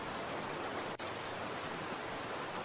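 Continuous heavy rainfall from the horror game 株式会社闇 hisses steadily and loudly, broken only by a split-second dropout near the one-second mark, with no talking.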